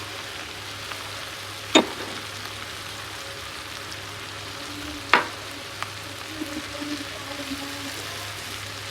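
Boiled taro fries in a pan for a shrimp and taro dish, giving a soft, continuous low sizzle with two sharp clinks of a utensil and a few small pops, with no one speaking.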